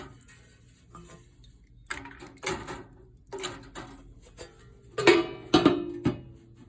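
Metal repair parts from a Fuji Spray T70 clatter and clink as they are dropped into an ultrasonic cleaner, with scattered light clicks early on, then louder bursts of clinking near the end, close up with no talk.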